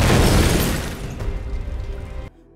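A loud, close film explosion in an action scene, a broad booming blast with crackling debris that decays over about two seconds before cutting off abruptly.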